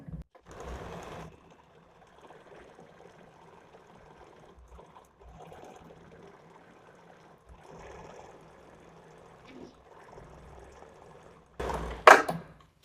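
A sewing machine stitches thin dori piping into fabric in several short bursts of rapid mechanical whirring separated by pauses, ending with a louder, sharper burst.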